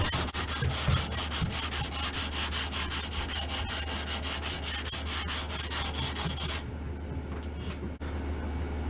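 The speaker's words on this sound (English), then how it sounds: "I'm just gently rolling over the sandpaper as I go." Sandpaper rubs back and forth over a wooden rifle fore-end on an M1912 Norwegian Krag carbine, steady rhythmic rasping strokes close up for most of the clip, then fading to a quieter hiss near the end.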